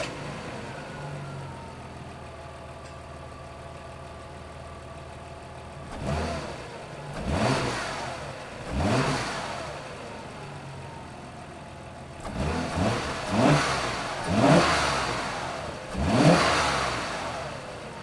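An Audi B5 S4 with a budget intake and turbo idles with a low burble, then revs repeatedly in sharp rising bursts, about seven blips with a whooshing turbo note, close and loud with no talking.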